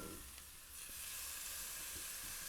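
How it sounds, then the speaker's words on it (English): A steak sizzles in an air fryer: a steady, bright, close hiss of frying fat fills the whole moment with no talk. "you could hear some sizzle"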